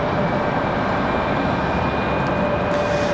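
A Frontier Airlines Airbus A320 at Raleigh-Durham International Airport at night produces a loud, steady jet engine roar with a constant tonal whine over a broad rushing noise, sustained without break.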